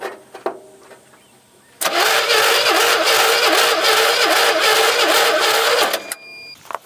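Engine of an abandoned Chevy Squarebody truck with a broken throttle cranking and trying to start, a loud steady churning roar for about four seconds after a quieter lead-in, then cutting off.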